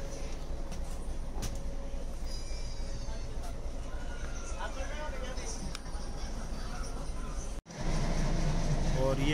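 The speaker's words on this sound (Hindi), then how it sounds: "और ये अभी हमारी गाड़ी यहाँ से चल पड़ी है" A passenger train rumbles steadily as it pulls away from Veraval station in Gujarat, India, bound for Amreli, a loud continuous low roar with faint voices and clatter mixed in.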